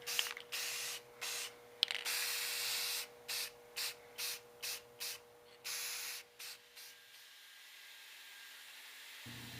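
An airbrush sprays light coats of matte clear onto a model drone, giving soft close hissing bursts: a longer spray, then a run of short evenly spaced puffs, before fading to a faint airy hiss.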